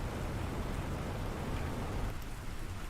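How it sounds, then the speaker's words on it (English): Steady rain falling in the survival game Planet Crafter, a dense, even hiss of drops that continues without pause throughout, with no voices over it. "Rain is not supposed to be falling inside."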